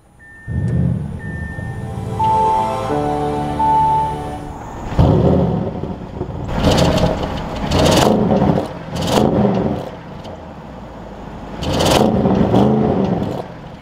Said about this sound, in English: let's fire up this RS7 with my foot on the brake